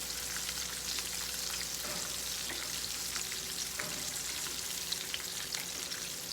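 Shrimp deep frying in oil produce a dense, continuous crackling sizzle that stays even and close throughout, with no voices.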